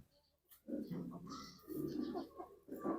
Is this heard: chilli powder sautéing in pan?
no